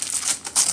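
A child rips open Christmas gift wrapping paper, giving two bright, crinkly tearing bursts close by, the second louder, with no talk.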